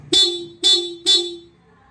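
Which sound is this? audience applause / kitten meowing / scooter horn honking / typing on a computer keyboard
scooter horn honking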